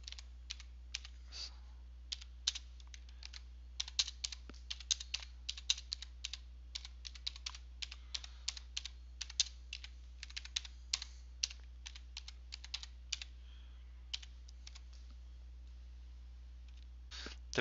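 Rapid typing on a computer keyboard, close and fairly quiet, with irregular bursts of crisp key clicks that run steadily for about eighteen seconds over a low background hum.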